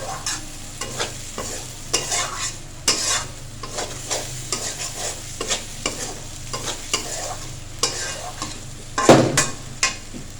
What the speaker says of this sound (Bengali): একটু জিরার গুঁড়ো দিয়ে ছিটিয়ে নেব, ভালোভাবে নেড়ে চেড়ে